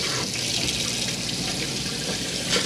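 Pressurised water running from the sink tap in an Elddis Autoquest 195 motorhome, a steady close splashing rush that continues throughout without talk.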